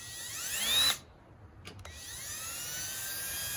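Power drill whirring with a rising pitch, loud and close, then cutting off abruptly, with a couple of faint clicks and steady background hum, near a chicken coop.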